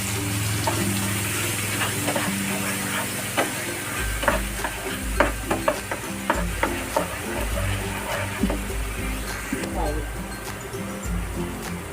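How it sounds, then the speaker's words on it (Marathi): Ground spice paste is stirred and fried in hot oil in a pan for a Marathi sengole dish, with soft sizzling under repeated scraping and clinking stirs at close range. "आता ह्याच्यामध्ये वाटण टाकून घ्यायचं बारीक केलेलं व्यवस्थित मिक्स करायचं"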